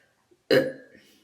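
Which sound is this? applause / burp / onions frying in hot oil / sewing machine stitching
burp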